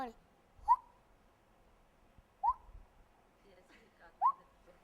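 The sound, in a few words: man imitating bird call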